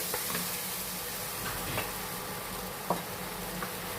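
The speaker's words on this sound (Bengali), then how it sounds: "কাজু কিশমিশ আর দই পেস্টটা দিয়ে এখানেও নাড়াচাড়া করতে থাকবো" Cashew, raisin and yogurt paste being stirred into sizzling masala in a pan for Kashmiri aloo dum, a soft, steady frying hiss with faint occasional scrapes, fairly quiet and without speech.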